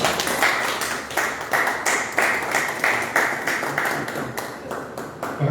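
At a Mexican bicentennial lecture, an indoor audience applauds after the talk with steady, evenly spaced claps that repeat in a regular rhythm for about five seconds.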